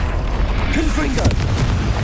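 Fiery Confringo blasting-spell explosions in a wizard-duel video game, a dense run of booming bursts and crackles over a constant low rumble, with spell-casting voices shouting over the din.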